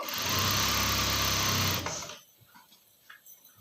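A sewing machine runs a straight stitch along a seam on a ready-made top, humming loudly and steadily for under two seconds before stopping abruptly into near quiet.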